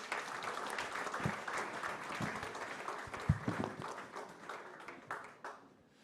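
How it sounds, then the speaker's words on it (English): Audience applause at the Yacht Club Monaco Explorer Awards ceremony, a steady, moderately loud round of clapping from a crowd that thins toward the end, with a few sharper individual claps standing out. "Je vais vous demander de les applaudir"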